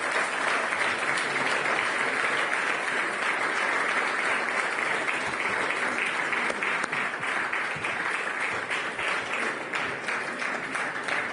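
Sustained audience applause at an economics forum in Sintra as finalists are called on stage, dense steady clapping throughout at moderate level with no clear speech over it.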